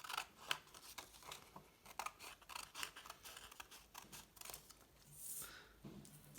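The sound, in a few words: scissors cutting origami paper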